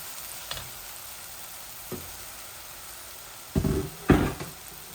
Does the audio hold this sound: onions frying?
yes